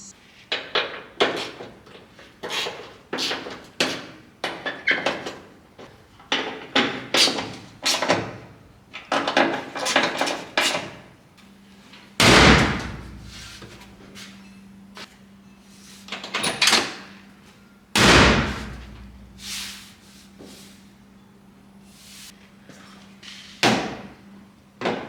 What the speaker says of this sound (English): I'm gonna see if I can adjust this latch.